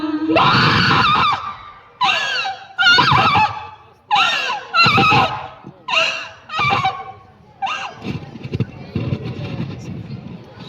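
A voice imitates a horse neighing during a one-act play at a district-level school cultural event: a series of loud, wavering whinny-like cries in repeated bursts, close and strained.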